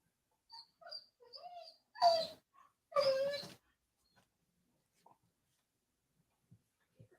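A dog gives a few short high whines and whimpers, then two louder bursts of vocalizing close by, followed by faint scattered sounds and quiet.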